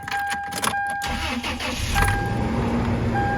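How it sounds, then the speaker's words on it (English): A Toyota Tacoma's 2RZ engine cranks briefly with a whirring starter, catches and settles into a steady, close idle, with no talk. "So we're going to start the vehicle so that we can clear the codes"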